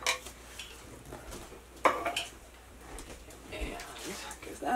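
Milk being mixed into oats for meatloaf in a bowl, soft clinks and scrapes of a utensil against dishware with one sharper knock, close up, under a person talking.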